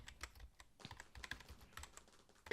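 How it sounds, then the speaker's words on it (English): Quick, uneven keystrokes clatter on a computer keyboard as staged fake typing, faint and close with no voices, ending in a louder bump. "Here's some more fake typing."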